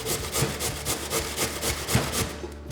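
Vegetable pushed down a box grater in steady rhythmic strokes, a close, coarse scraping repeated roughly every quarter second for a cucumber, carrot and kohlrabi salad, with no voices.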